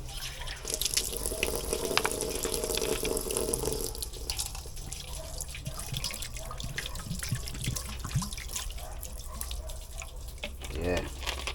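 Water running from a kitchen tap while raw fish is washed with vinegar for Jamaican steamed fish, a steady close splashing and trickling stream with drips and brief clatter, continuing for several seconds without talking.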